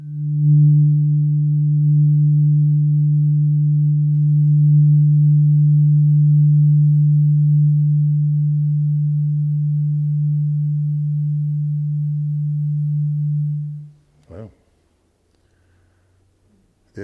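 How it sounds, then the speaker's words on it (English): Steady low sine-like drone standing for Saturn's frequencies lowered into hearing range, holding evenly for about fourteen seconds before cutting off, followed by a few faint clicks. "the sound of Saturn"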